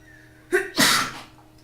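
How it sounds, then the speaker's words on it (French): A single sneeze from a man, a sharp intake followed by a loud, close burst that trails off, heard alone without talk. "Pardon, c'est la deuxième fois que j'éternue."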